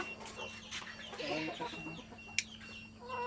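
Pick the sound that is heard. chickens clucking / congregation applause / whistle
chickens clucking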